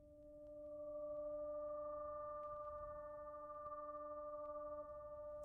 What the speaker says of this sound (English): which is like a pad, and it only plays one note